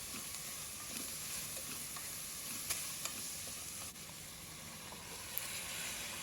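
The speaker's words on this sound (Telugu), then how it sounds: "ఇందులోనే కట్ చేసిన టమాటో కూడా వేసి ఫ్రై చేసుకోవాలి" Chopped tomato frying in a pan for a cluster bean (goruchikkudu) curry, giving a steady, close hiss and sizzle throughout with a few faint clinks from stirring.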